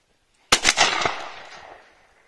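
A single close, sharp blast from a 20 gauge shotgun loaded with number 6 shot, fired at 30 metres on a shooting range, followed by a short decaying echo.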